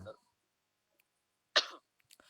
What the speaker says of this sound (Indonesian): batuk ini bukan corona